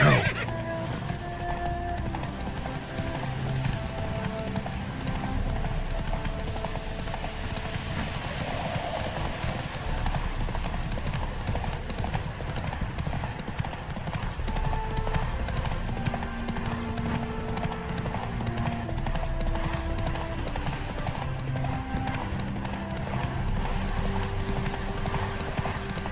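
Roach, Geralt's horse in The Witcher 3, gallops in a steady rapid clip-clop of hooves that runs throughout, with an occasional whinny, all at an even, close level under game music and ambience.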